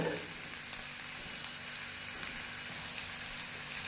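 Chopped onions, garlic and green chillies fry in a hot pan for a chutney, giving a steady close hiss and crackle of oil that holds even and unbroken throughout.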